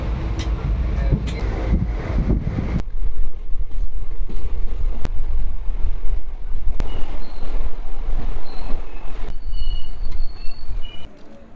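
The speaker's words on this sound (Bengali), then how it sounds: "আমাদের ট্রেন এসে পৌঁছালো আলুয়াবাড়ি রোড স্টেশন" Teesta Torsa Express, train 13141, pulls into Aluabari Road station late at night: a close, continuous rumble of rolling wheels and carriages, with high metallic squeals and brake screeches and some wind noise throughout.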